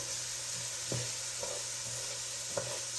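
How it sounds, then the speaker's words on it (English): Rice toasting in hot oil for Spanish rice, a steady low sizzle with a few soft scrapes and taps from stirring, fairly quiet and even throughout with no talk. "So what we're basically trying to do is toast the rice."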